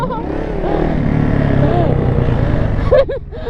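A 750cc sport motorcycle runs with a loud, close engine drone, rising and falling in pitch as it revs, then dips near the end under a few shouted voices.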